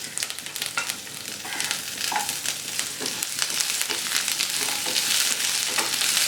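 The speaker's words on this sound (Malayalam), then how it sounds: "ഇനി ഇതിലേക്ക് വെളുത്തുള്ളി അരിഞ്ഞതും ഇഞ്ചി അരിഞ്ഞതും പച്ചമുളകും കൂടി ചേർത്ത് 1 മിനിറ്റ് ഒന്ന് വഴറ്റണം." Chopped garlic, ginger and green chili sizzle and crackle in hot oil in a pan for an egg curry, a loud, continuous frying hiss with occasional stirring scrapes and no talk.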